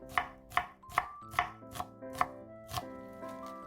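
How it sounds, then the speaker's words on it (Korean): An onion sliced thinly with a knife on a cutting board: seven crisp, close chops at a steady, brisk rhythm. No speech. "양파는 반을 자르신 다음에 이왕이면은 조금 얇게 채 썰어 주세요"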